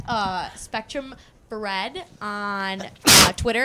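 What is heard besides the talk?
sneeze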